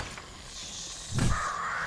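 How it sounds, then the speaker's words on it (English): A crow caws inside a building in the survival game 7 Days to Die, one harsh, fairly loud call rising over steady in-game background noise. "There's a bird inside there somehow."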